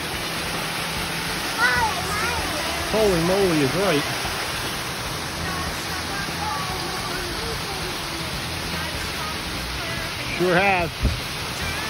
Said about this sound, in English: Let's look at the waterfall.